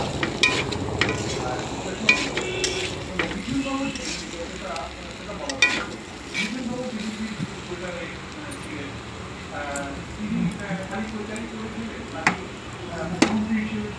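Boiled chickpeas for chana masala stir-fried in a pan with salt, turmeric, a little sugar and spices, giving a steady sizzle with scraping spatula strokes under a person talking throughout.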